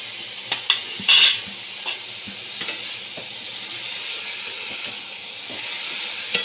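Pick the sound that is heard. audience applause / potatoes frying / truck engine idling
potatoes frying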